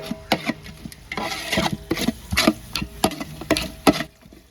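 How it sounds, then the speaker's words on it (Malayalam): A spoon scrapes and rubs through garam masala in a cooking pan for Arabian chicken kabsa, making about a dozen quick, rhythmic stirring strokes, close and distinct with no talking. "പിന്നെ നല്ലപോലെ ഒന്ന് ഇളക്കി കൊടുക്കാം പച്ചപ്പൊന്ന് മാറാനായിട്ട് ഇളക്കി കൊടുക്കണം"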